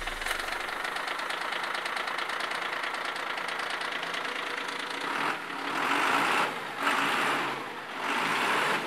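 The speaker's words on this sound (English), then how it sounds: "We then turned the key on the truck, connected to nothing but the jump starter kit from Daytona" A truck engine starts from a Daytona heavy duty jump starter and settles into a dense, knocking diesel-like idle, rough and close, with a few louder swells of revving toward the end and no voices.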